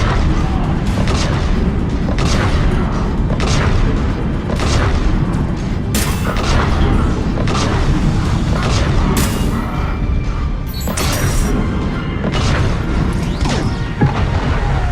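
Missiles blast in Mass Effect 3 during the Grissom Academy mission, a dense run of heavy booms and crashing impacts repeating over steady loud combat noise.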